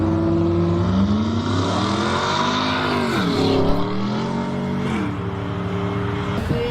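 Cammed Hemi V8 with major head and cam work, making 414 horsepower at the wheels, revs loud and close, its choppy idle rising and falling through several throttle blips.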